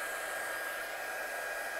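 Heat gun blowing steadily on chalk paint to dry it, a continuous loud broadband hiss and whoosh with no pauses and no talking.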